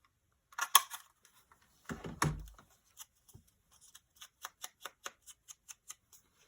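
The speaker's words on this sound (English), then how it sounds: "I'm going to use my big punch and just try to eyeball this and cut a small notch" A big paper punch cuts a notch in a paper journal, giving a few sharp crunching clicks followed by a run of light, evenly spaced paper taps, close and quiet.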